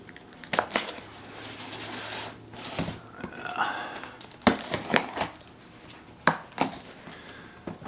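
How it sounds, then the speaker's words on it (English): A hobby knife slices open a cardboard shipping box at close range, giving irregular sharp crinkling, tearing and scraping bursts with short pauses between strokes. "I'll get my trusty X-Acto knife here, cut this open."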